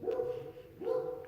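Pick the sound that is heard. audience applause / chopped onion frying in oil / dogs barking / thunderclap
dogs barking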